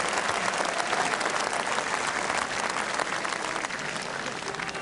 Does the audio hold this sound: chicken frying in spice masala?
no